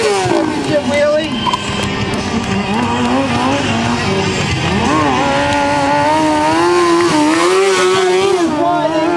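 A 2003 Kawasaki 636 sport bike with a custom frame revs loudly through a championship wheelie at an outdoor freestyle motorcycle trick show, its engine whining and rising and falling continuously, with crowd and announcer voices mixed in.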